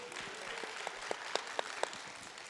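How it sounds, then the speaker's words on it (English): Audience clapping at a hip hop symposium, fairly faint and distant crowd applause with a few sharper individual claps standing out. "Clap it up for yourselves one time."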